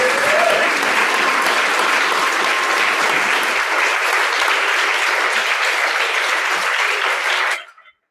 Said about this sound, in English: we have one more massive round of applause for Shaunna Lee Lynch.